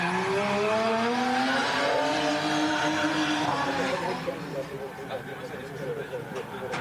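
A drift car at the Super Drift Brasil event at Mega Space slides along the track with squealing tires and a revving engine, fading into the distance, while a commentator talks over it.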